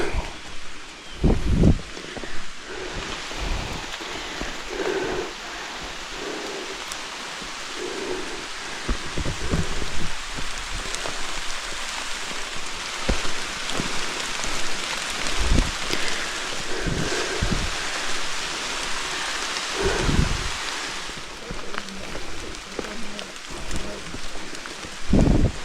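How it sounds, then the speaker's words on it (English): Steady rain falls on a mountain trail, a constant broadband hiss with scattered louder taps and rustles, close and continuous for the whole stretch, with no talking. "Sun's trying to shine and it's raining."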